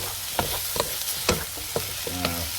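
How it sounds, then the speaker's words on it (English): Sliced zucchini stir-frying in a hot pan for Korean squash bibimbap, a close sizzle punctuated by quick scraping stirs and a few light taps of a utensil, no talking. "So this 호박볶음, zucchini stir fried."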